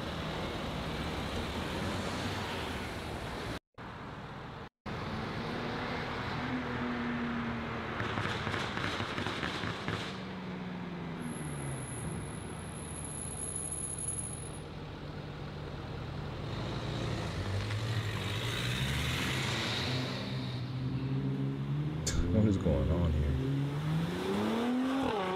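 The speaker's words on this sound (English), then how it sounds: "As you can hear, it's very popular to have verbal tunes with the S63. S63 being the engine." A BMW X5M with the S63 4.4-liter twin-turbo V8 revs repeatedly, rising and falling in a deep roar with sharp popping crackles, loud and close, with two short drops to silence early on.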